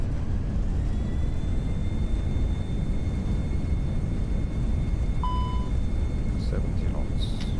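An airliner lands in a flight simulator under a loud, steady engine and rumble roar, with thin tonal whines and a brief beep as the reverse thrust runs, while cockpit voices speak over it.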